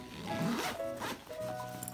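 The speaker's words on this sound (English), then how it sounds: "Let's try to zip it up." A zipper is pulled closed on a full diaper bag, with a close, continuous scratchy rasp that runs for about two seconds and pauses briefly once midway.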